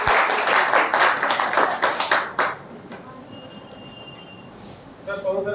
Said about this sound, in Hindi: एक बार तालियां बजनी चाहिए सर